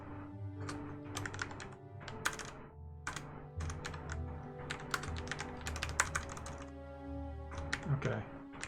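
Rapid clattering keystrokes on a computer keyboard in uneven bursts, close and fairly quiet, with a low tonal hum and faint room sound underneath.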